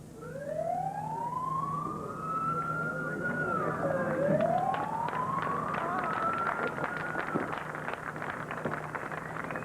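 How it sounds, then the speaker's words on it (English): A siren at the 1983 US Open golf championship, signalling play to resume, wails with rising and falling tones over distant crowd murmur, heard from afar. "Well, that was the siren."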